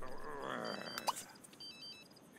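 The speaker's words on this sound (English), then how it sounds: "One minute, I got a phone call." A phone rings in The Sims 3, a short electronic ringtone chirping in repeated tones, fairly faint and mixed with game sounds and background noise.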